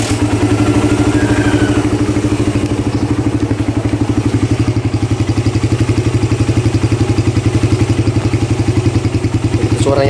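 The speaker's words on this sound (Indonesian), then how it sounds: "Ini suara dari FU CBU." A Suzuki Satria FU CBU motorcycle engine idles close by at a steady, even rate, with a continuous rapid thumping pulse and a dry, clattery tone that holds unchanged throughout.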